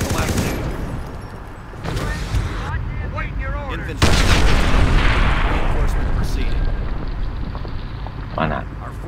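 Javelin missile launches and explosions in a modern Company of Heroes battle: a dense barrage of booming blasts and crackling fire, swelling into a loud sustained roar midway, with voices talking over the fighting.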